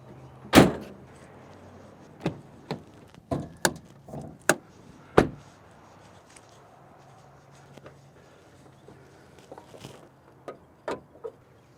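Hood of a 2023 Ford Maverick XLT Tremor being opened, with a few sharp, close latch clunks and thumps early on, then quieter handling knocks and clicks spaced out afterward.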